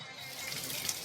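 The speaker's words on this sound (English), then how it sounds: "the sound of water gushing through your living room ceiling because a pipe bursts inside the wall" Steady rushing gush of water, like a burst pipe pouring through a living room ceiling inside the wall, running continuously and fairly close with no voices.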